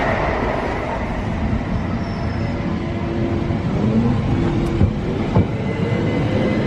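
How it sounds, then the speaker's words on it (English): A Trains for London service rumbles steadily past at Ealing Broadway heading toward Paddington, a continuous loud rolling noise with faint clicks and no voices. "that is a Trains for London service just going to Paddington"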